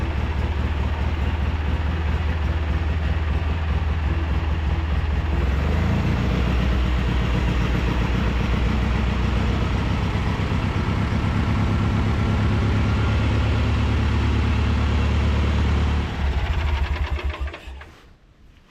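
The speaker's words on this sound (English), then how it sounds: "That thing runs so smooth. That runs just like the other Kohler Magnum I've got." Kohler Magnum engine on a vintage Craftsman tractor running smoothly with a steady low drone, shifting pitch once partway through, then cutting off near the end.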